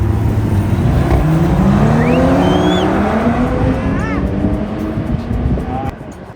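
A BMW M340i and an Audi RS3 launch side by side in a drag race, engines roaring loudly with rising and shifting revs, a squeal of tires, and the sound fading as the cars pull away.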